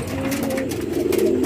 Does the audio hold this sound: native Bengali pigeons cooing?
yes